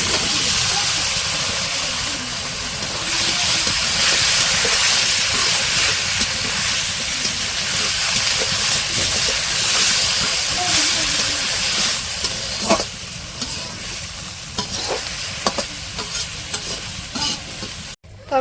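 Chopped vegetables sizzle in a pan of turmeric- and chili-spiced curry over a village kitchen fire, a steady loud frying hiss broken by scraping stir strokes that grow more frequent near the end.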